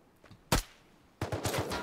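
Sniper rifle gunfire in the survival video game Rust: one sharp, loud shot, then a quick burst of several more shots close together, with no talk.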